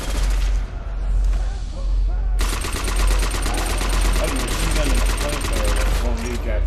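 Rapid automatic gunfire from the Call of Duty zombies map Nacht der Untoten, with dense, sustained bursts of loud shots over the game's background rumble and effects.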